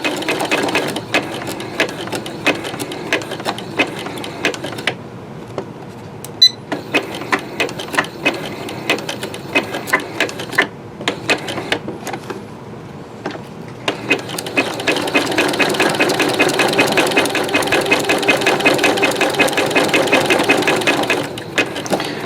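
Sewing machine stitching a rope bowl, its rapid mechanical whirring running in short bursts with brief pauses, then settling into a longer steady run near the end.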